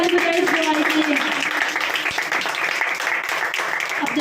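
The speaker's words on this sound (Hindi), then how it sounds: "जोर से ताली बजाइए इस गवाही के लिए।" Church congregation applauding a woman's testimony of healing, a dense, steady wash of clapping from many hands that carries on unbroken throughout.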